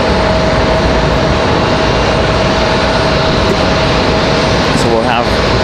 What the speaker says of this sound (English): another CRJ 900LR coming in from JFK